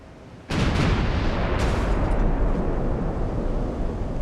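Naval shell fire in Ultimate Admiral: Dreadnoughts, a sudden loud boom that breaks into a long rumbling roar with a second sharp impact partway through, fading slowly.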